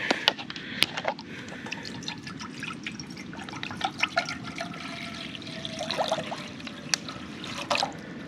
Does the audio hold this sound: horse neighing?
no